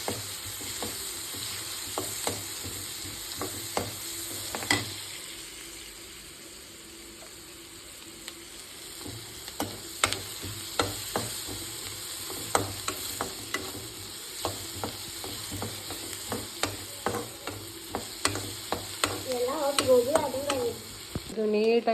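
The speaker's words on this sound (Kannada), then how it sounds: "ಆಮೇಲೆ ಇದನ್ನೆಲ್ಲ ಚೆನ್ನಾಗಿ ಫ್ರೈ ಮಾಡಬೇಕು." Garlic and onion frying in a pan for gobi rice, a steady sizzle with frequent sharp crackles and pops plus scraping stirring strokes, close and fairly loud, with no talk.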